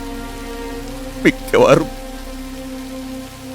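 Steady rain pours down in a film scene, a continuous hiss that lasts throughout, interrupted by a brief spoken word in the middle.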